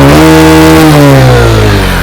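Bajaj Platina 110H motorcycle engine in brand-new condition with 3500 km done, revving loudly up close, a dense steady mid-pitched roar whose tone slides slightly over two seconds.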